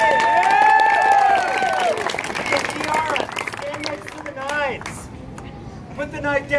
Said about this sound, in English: Ladies and gentlemen, clap like she's your kid.